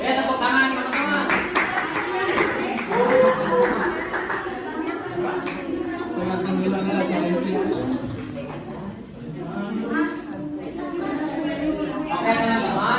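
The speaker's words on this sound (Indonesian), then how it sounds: "Tepuk tangan teman-teman." Classmates in a primary school teaching simulation clap their hands in a short burst, mixed with loud chatter and voices talking throughout.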